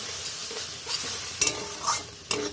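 Amudi fish tel jhal curry being stirred in a hot pan, a steady oily sizzle with a few short scraping strokes of the spatula, close and moderately loud, with no voices.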